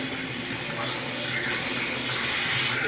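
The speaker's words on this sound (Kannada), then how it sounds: "ಹಾಕಿದರು ನೀರು ಇವಾಗ ನೀರು ಬಿಡ್ಕೊಂತವ್ರೆ" Water running steadily into chapati flour in a kitchen as it is prepared for kneading, a continuous close splashing pour throughout with faint voices underneath.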